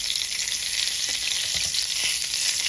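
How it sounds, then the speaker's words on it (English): Duck breast sizzles steadily in a hot pan as it is basted with fat, a close, loud, continuous frying hiss with faint spoon scrapes underneath and no talking. "make sure when you're basting these, you're doing so as evenly as possible"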